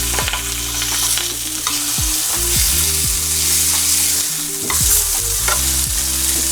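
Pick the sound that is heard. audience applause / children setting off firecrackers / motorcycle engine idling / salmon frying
salmon frying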